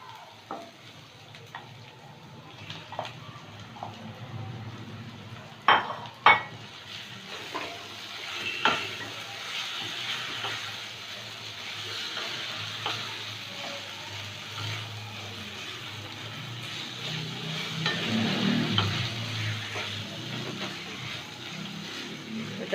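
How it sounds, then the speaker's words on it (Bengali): Bombay duck (loite fish) fries with softened, lightly browned onions in a pan, giving a steady low sizzle and hiss with occasional sharp scrapes and clacks from stirring, moderately close and without talk. "এটাকে খানিকক্ষণ ধরে ভাজবো"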